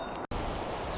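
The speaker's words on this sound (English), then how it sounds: "It is very windy here this morning." Strong morning wind blowing outdoors, a steady broadband roar buffeting the microphone, broken by a brief cut near the start.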